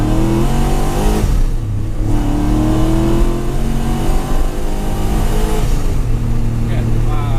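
Supercharged 4.4-litre V8 in a BMW E30 Touring, heard from inside the car, revving hard with a steady rising engine drone and harmonic whine, while occupants talk over it throughout.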